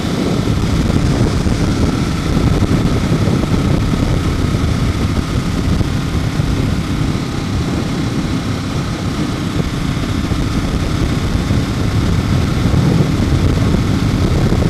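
A Ducati 1098 motorcycle runs with its open dry clutch, giving a loud, steady mechanical rumble and rattle close by with no talk.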